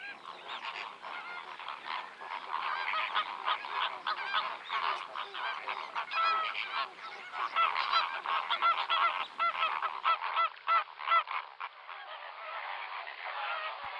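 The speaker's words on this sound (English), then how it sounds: "Intertwining of necks in this case is also a sign that the flamingos are courting." Flock of flamingos calling during spring courtship, a dense, continuous chorus of nasal honking calls, loud and close, rising and falling without pause.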